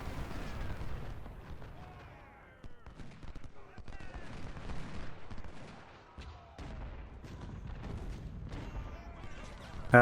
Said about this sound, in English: That's some lovely artillery right there.